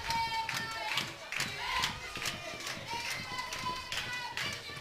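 A crowd at a softball game cheers and chants for a pitcher during a team conference in the pitcher circle, with rhythmic claps and shouts rising and falling steadily, and a commentator talking over it.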